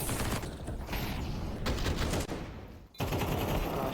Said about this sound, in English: Shooting, though, from both sides.